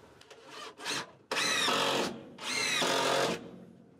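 Cordless power drill driving screws into a supply shelf inside a rabbit enclosure: two short whirring bursts, then two long, loud, steady runs of motor whine separated by a brief pause.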